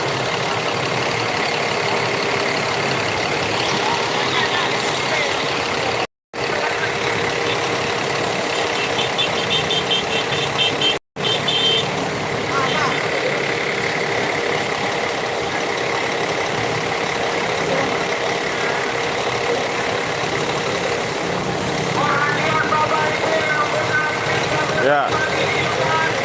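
Adi Prima tour bus idling before departure on a roadside, a steady close diesel rumble with a faint rattling knock, continuing for the whole stretch apart from two abrupt cutouts, with background voices.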